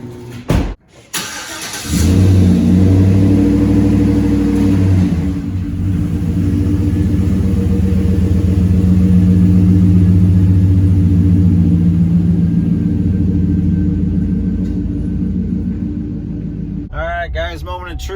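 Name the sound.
Chevrolet Silverado truck engine on a test drive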